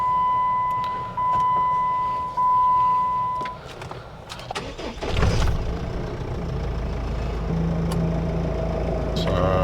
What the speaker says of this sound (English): I'm going to turn the vehicle on now and then just do acceleration without the throttle controller being connected or turned on